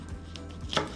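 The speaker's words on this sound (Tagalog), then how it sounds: "Yung kabay hihiwain ko sa two parts." A single knife stroke cuts through a kabay (pompano) fish on a cutting board, one brief crisp chop near the end of a quiet moment, close and alone without speech.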